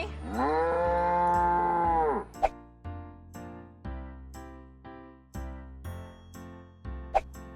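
A calf lets out a long, loud moo, then a series of shorter bleating moos follow at irregular intervals, close by.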